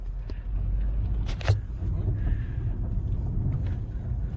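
A Ford Focus ZETEC on a test drive, heard from inside as a steady low engine and road rumble with a brief rattle or click midway, fairly loud and continuous.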